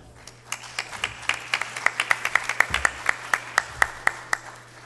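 Audience at an academic education seminar in Lima applauding a faculty speaker being introduced, starting scattered and building into a fairly regular, close rhythm of distinct claps that continues to the end.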